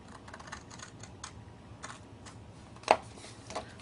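Scissors or a trimmer cut across cardstock for a gift card box. A string of faint, quick snips and ticks sounds close by, with one sharper click near the end and no talk.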